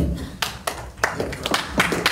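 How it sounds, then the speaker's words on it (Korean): Audience clapping after a candidate's speech at a Pyeongtaek mayoral forum, a few sharp, scattered claps in a short irregular burst rather than full sustained applause. "박수는 삼가해 주시기 바랍니다."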